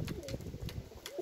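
Pigeons of a smoky-grey pedigree line coo softly in a loft in Çatalca, Istanbul, with repeated low burbling calls close by over faint background noise.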